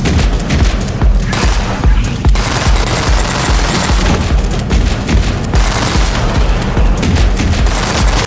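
Guns fire constantly in the video game Shotgun Cop Man, a loud, dense barrage of rapid shots and blasts that runs without a break.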